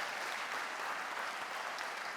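A room full of people at an economic forecast event claps steadily, a dense and even wash of applause that holds at the same level with no pauses.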